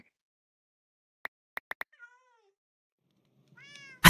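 Minecraft cat in a video game, two clear meows, the second louder, following a few sharp clicks, isolated against near silence.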